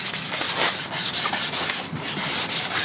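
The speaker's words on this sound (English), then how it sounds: "Already sanded this when I was down south, but I'll give it another go with 600." Hand sanding a Honda Transalp motorcycle fuel tank with 600-grit paper, close continuous rhythmic scratchy rubbing strokes with no talking.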